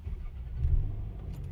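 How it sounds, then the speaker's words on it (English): A 2000 Toyota Camry engine cranks and catches, a short low rumble swelling to a brief peak and then settling into a steady idle, close by, with no talking. "The car starts."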